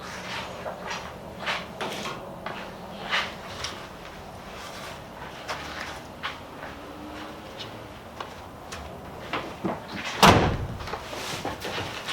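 The tailgate of a 2017 Chevy Silverado Z71 pickup swings shut with one heavy, close slam, preceded by quiet clicks and handling noises.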